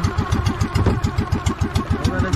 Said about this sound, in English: Okay, you got the engine running.